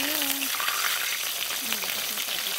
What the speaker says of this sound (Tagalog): Start frying yan.